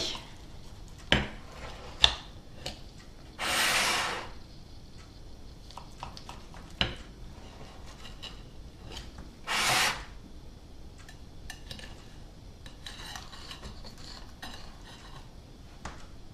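A knife slicing through a cooled, barely warm salmon and asparagus quiche, giving scattered soft scrapes and taps of blade and utensils on a dish, with two brief louder rasping cuts standing out against a quiet room.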